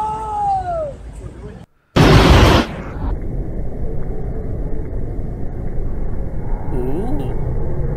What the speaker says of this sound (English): Ooh. Lightning.